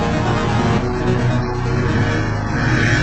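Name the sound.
reversed harp sample slowed to half time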